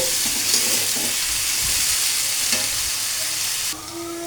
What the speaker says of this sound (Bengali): আলুগুলা পেঁয়াজ রসুনের সাথে ভালোভাবে একটু ভেজে নেব